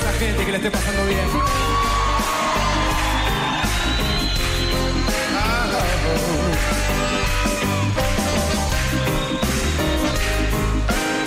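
A crowd at a lively music show shouts and whoops over loud, dense music, raising continuous yells and cheers that blend into the band's sound throughout.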